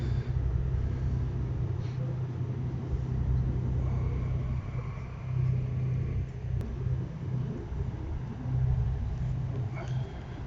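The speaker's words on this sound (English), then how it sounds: "Letting the front down now so the cars can get off." A car ferry at Argostoli, Kefalonia, lowers its front ramp so cars can drive off, heard as a low, continuous mechanical rumble with faint knocks and clanks over the steady hum.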